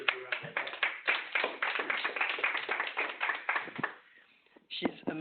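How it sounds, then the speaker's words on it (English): Attendees at a social studies leadership meeting give a short burst of hand clapping, close and fairly dense, fading out near the end before a final few claps. "So I think you should give her a round of applause."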